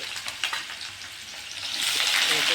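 Chopped onions drop into hot ghee and sizzle close up, the frying hiss swelling louder over a couple of seconds with light stirring scrapes.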